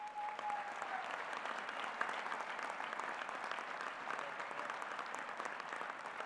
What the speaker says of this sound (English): Now let's give all our Hall of Famers a big round of applause.